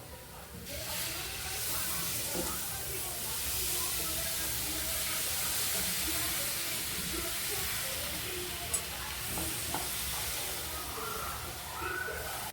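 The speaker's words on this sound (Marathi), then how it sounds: "त्याचं जे पाणी गाळून घेतलं होतं ते आता फोडणीमध्ये टाकते" Strained water from ground crab legs is poured into a hot spiced tempering, producing a steady loud hiss and sizzle that holds for over ten seconds with no talking.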